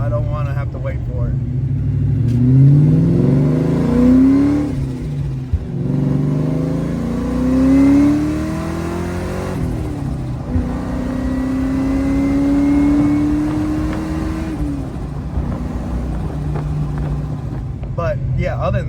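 A car engine revving on the throttle, swelling and falling in several rising surges over a deep rumble, loud and close, with someone talking over it at times.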